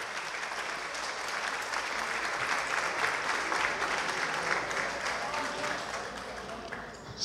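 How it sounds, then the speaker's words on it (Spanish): An audience at a ceremony honouring International Women's Day claps for a speaker in steady, full applause that builds, holds and then tapers near the end, with faint voices in the background. "Fuerte el aplauso para él."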